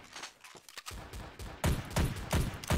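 Pistol shots in Trouble in Terrorist Town, a handful of sharp reports with the later ones louder and closer, fired in quick succession with no talking.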